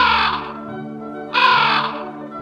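A raven gives two loud, harsh croaks in close succession, each hoarse call ringing briefly before fading, with nothing else around it.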